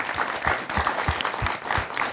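Audience applause for visiting school students at a televised Hindi studio discussion on CBSE exam results, a steady wash of many hands clapping close by with no voices on top.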